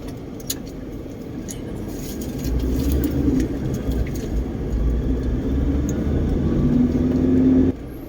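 Road traffic of cars on Quezon Avenue in Manila, heard as a steady low rumble of passing vehicles from inside a moving car, with an engine drone that swells and holds.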